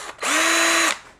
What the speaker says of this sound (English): Then you need to drill two holes through here